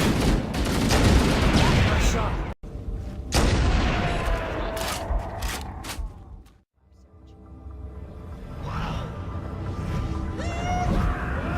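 Rapid bursts of gunfire in a Halo fan film battle, loud and dense with heavy booms, briefly dropping out twice before the firing resumes, with shouting voices mixed underneath.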